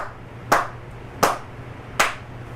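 Three slow, evenly spaced hand claps about three-quarters of a second apart, each sharp and close with a short decay, alone over a faint steady hum.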